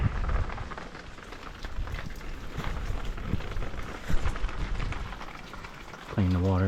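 Rain pattering steadily in Fort Myers during pop-up storms after Hurricane Ian, a close, dense hiss with scattered drops, ending with a short tonal electronic sweep.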